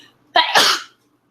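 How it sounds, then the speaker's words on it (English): A single loud, close sneeze, a sharp intake followed by a forceful burst that stops abruptly, with quiet before and after. "Oh, I need to sneeze."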